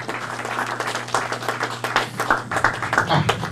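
An audience claps at a 50th birthday celebration, with dense, continuous applause from many hands at moderate distance while a voice talks faintly underneath.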